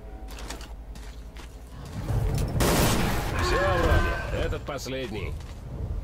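Shotgun blasts and rapid gunfire in the video game STALKER: Call of Pripyat with the Misery mod, with several loud reports and mechanical reloading clatter over a dark ambient background while someone talks throughout.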